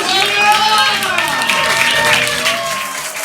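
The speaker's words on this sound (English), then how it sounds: "Keep the applause going" Audience applause at a stand-up comedy show: a dense, steady wash of clapping with cheers and shouts rising over it, holding for about three seconds before easing off slightly.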